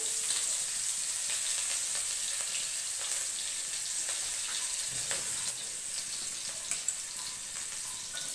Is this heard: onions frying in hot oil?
yes